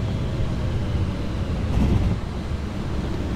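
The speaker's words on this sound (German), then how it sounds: "Hier kann man noch mal drauf hinhören, auf die weichen Sounds." A BR 612 diesel multiple unit in Train Sim World rolls steadily over track switches, a continuous low rumble with soft rattling, heard alone and fairly loud throughout.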